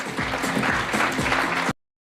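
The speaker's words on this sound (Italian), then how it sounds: "Io vi vorrei chiedere un grandissimo applauso per Barbara Porella" Audience applause at a Miss Riviera del Brenta beauty pageant selection in Giavera del Montello, a dense, steady wash of clapping with a faint tonal hum beneath that cuts off abruptly after under two seconds.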